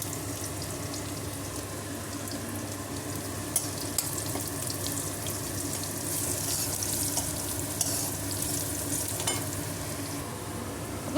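Brinjal pieces fry in oil for a masala curry, a long, even, hissing sizzle heard up close, with occasional light clicks and crackles rising above the steady bed of frying noise.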